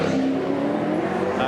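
A V8 Supercar leaves the pit lane at Phillip Island in a 2001 Shell Championship race, its engine a steady droning tone beneath a commentator's voice.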